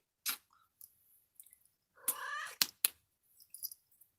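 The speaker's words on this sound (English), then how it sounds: "I named my cat." Dixie the cat lets out a single strained meow midway, set among soft clicks and small rustling noises in a quiet room.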